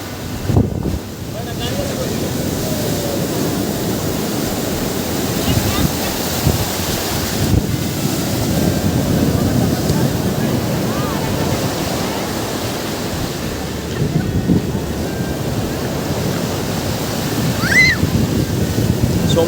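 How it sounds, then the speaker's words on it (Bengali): Large waves crash and roar continuously on a beach in Lebanon, a steady heavy surf with wind buffeting the microphone throughout. "সমুদ্রের আজকে ঢেউ অনেক বেশি অনেক বেশি অনেক বড় বড় ঢেউ আসতেছে"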